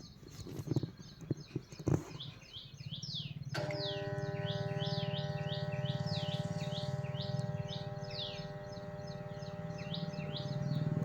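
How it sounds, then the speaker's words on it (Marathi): Birds chirp in quick, repeated calls, fairly near, over a steady low mechanical hum, after a few knocks at the start. "पक्ष्यांचा आवाज येतोय"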